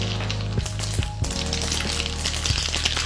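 Mustard seeds crackle and sizzle in a little hot oil heated in a small kadhai for a tadka, a steady close frying hiss broken by sharp pops.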